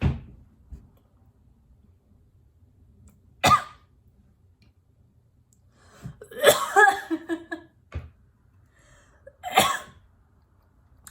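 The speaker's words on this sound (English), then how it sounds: "I was doing the blush and I started coughing." Several separate coughs after blush makeup got into the throat: a short burst, then a longer fit of rough, close coughing and one final cough, with quiet gaps between.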